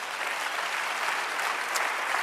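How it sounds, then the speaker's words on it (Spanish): A church congregation bursts into sustained, dense applause, a steady wash of clapping with no voices over it. "Dale otro aplauso al Señor."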